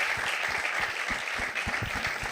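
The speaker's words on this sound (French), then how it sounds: "Est-ce qu'on peut acclamer la parole de Dieu?" A church congregation applauds, producing steady rhythmic clapping that fills the room at moderate loudness for a couple of seconds.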